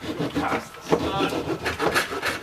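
A hand saw cuts through water-damaged ceiling drywall near a stud, a close, gritty rasping in quick irregular strokes with no pauses.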